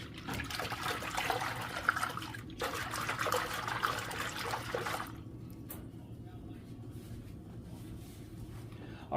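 Water being stirred by hand to work Woolite suds through a basin for wet blocking acrylic yarn, giving a close, continuous sloshing and trickling with two busier swirling bursts before it settles to a quieter gurgle.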